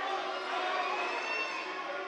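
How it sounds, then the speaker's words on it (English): A crowd at a boys' varsity basketball championship game roars in a sustained wash of cheering, steady and fairly distant, with no clear individual voices standing out. "if you hear the reaction of the crowd"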